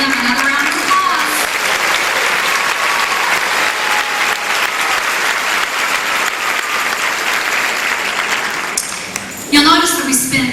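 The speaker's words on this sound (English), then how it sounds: "Let's give them another round of applause." Loud, sustained applause from an audience at the Miss Nebraska 2008 pageant fills the room, with a voice speaking briefly before and after the clapping.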